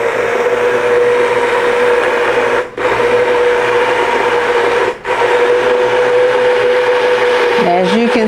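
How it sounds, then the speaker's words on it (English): An immersion blender runs on low in a pot of bolognese sauce, giving a loud, steady motor whine with a grinding churn. It cuts out briefly twice, then the pitch wobbles near the end. "Use my immersion blender to actually blend everything together and make everything smooth."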